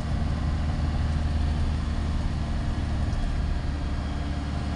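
Steady low rumble and broad hiss of a car interior on the move, an even engine and road drone with no voices.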